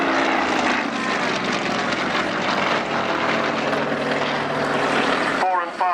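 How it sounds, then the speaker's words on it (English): Display aircraft at the 2013 Cosford airshow perform a synchronized stall turn, a loud, steady engine roar filling the air and rising and falling slightly under continuous commentary before it cuts away near the end. "So the other aircraft doing a synchronized stall turn."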